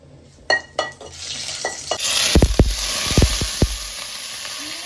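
Rice is stirred in hot oil in a pan with bay leaves and fried onion for chicken pulao: a few metal clinks, then a rising sizzle with scraping spoon strokes and knocks against the pan.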